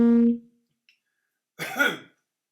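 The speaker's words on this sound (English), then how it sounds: "I didn't cough because I have the virus." A single short, raspy cough sounds close by after a faded tone, followed by quiet.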